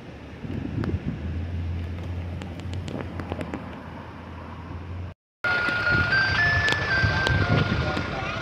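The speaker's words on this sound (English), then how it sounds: "It's the ice cream truck with snow" An ice cream truck near La Jolla Cove plays its bright jingle melody in the second half, loud and close after a brief dropout, following a wind-blown stretch with a low steady hum and people talking.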